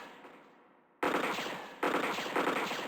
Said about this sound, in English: The pistol here we're picking up is an automatic pistol, by the way, so you get like a burst fire.